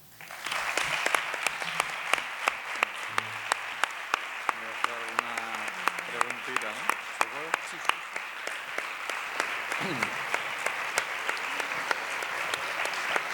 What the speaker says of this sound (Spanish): Mientras aplaudimos